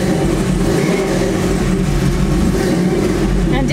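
A cammed Chevy C10 truck engine revs steadily to around 2,000 RPM, a loud, continuous, rough low rumble filling the whole stretch with no pauses.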